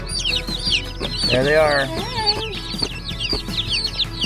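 Freshly delivered baby chicks from a mail order cheep and peep in a busy chorus of high chirps, close by, while a person talks briefly over them.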